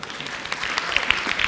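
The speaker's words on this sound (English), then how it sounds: "please give a huge round of applause to Yang Mulia Tengku Dato Zafrul" Audience applause at a business club corporate address in Kuala Lumpur, steady clapping from a crowd welcoming a speaker, with a few sharper individual claps standing out.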